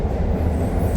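Chicago Red Line subway train running underground, a loud continuous rumble of wheels and carriage noise close around the listener, with no talk.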